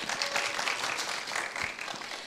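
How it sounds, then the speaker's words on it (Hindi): Audience applause following a duet performance at a singing competition, a dense, sustained clapping crowd heard at close range, with a voice briefly speaking over it. "दामचिन नोरबो एंड ओबॉम तांगो, जोरदार तालियां इन दोनों के लिए"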